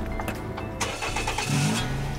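A car engine cranks and starts in an adapted vehicle used by a driver with a disability, a short starter churn followed by a steady low engine hum close by, with no talk.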